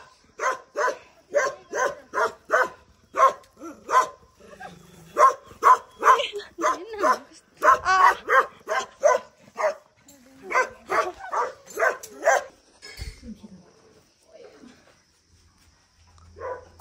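Dogs bark repeatedly at a village home in rural Nepal, a rapid run of close, sharp barks in uneven bursts with short gaps, fading to silence near the end.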